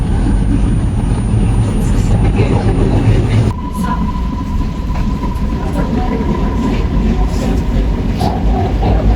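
An MRT Kajang Line train running in Kuala Lumpur, a loud continuous rumble and rush from inside the carriage, with a steady tone rising partway through and no talk.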